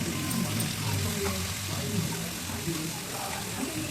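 Steady, continuous sizzling of mutton bones frying in hot tempering oil, a dense crackling hiss that holds evenly throughout.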